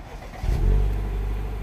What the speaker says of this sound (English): Let me try to start the engine without cleaning the faults.